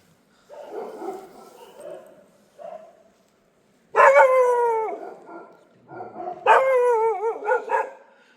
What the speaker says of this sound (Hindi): ये पीछे से भौंक रहा है